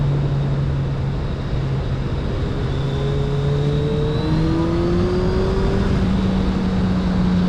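A 2021 Suzuki Hayabusa superbike engine revving hard while ridden on the road, a loud sustained roar with rising pitch sweeps as it accelerates through the gears, with wind rush behind it.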